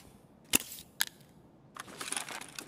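Two sharp, isolated gunshots in Escape From Tarkov, the first closer and louder, then a burst of faint scuffling and rustling movement.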